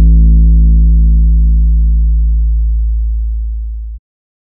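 A synthesized 808 bass note sounds as a deep, smooth sine-like boom, alone and loud. An envelope-controlled low-pass filter gradually dulls its upper harmonics as it sustains for about four seconds before cutting off abruptly.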